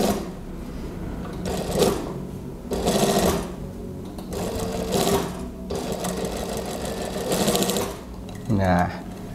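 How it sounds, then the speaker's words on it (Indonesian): A sewing machine runs close by, stitching the neckline lining of a cardigan-style gamis in several distinct bursts with short pauses between them, and a voice speaks briefly near the end. "Jahitnya mepet, posisinya saya jahitnya di bagian lapisan dalamnya kerung lehernya ya, bukan di sisi kain utamanya."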